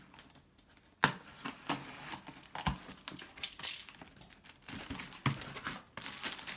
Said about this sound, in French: on va tout de suite commencer par le déballer